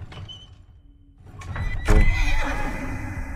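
A horse in the video game Boxes: Lost Fragments gives a loud, clear whinny that rises and then trails off, heard close over a faint ambient background with light clip-clop.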